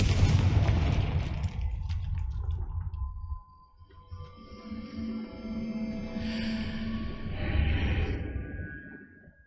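A Confringo fire spell in the Hogwarts Legacy video game goes off with a loud booming blast at the start, then fades into lingering crackle and shimmering magical tones.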